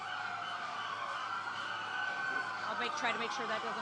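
Sirens wail steadily in the background at an outdoor press conference, a sustained high tone running the whole time with muffled voices and crowd noise underneath.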